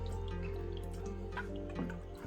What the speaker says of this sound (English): it's sucking water from here and putting water out